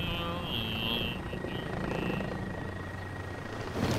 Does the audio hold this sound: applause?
no